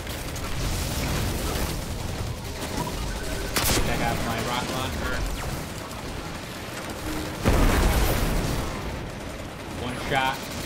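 In the Destiny 2 video game, a thrown grenade and a rocket launcher go off amid dense rapid gunfire, producing sharp blasts and loud explosive bursts over constant shooting. Someone talks throughout the action.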